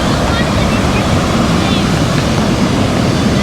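Ocean surf rolling onto Flagler Beach, Florida, a steady broadband wash with constant wind buffeting the microphone, loud and close throughout with no distinct breaks between waves.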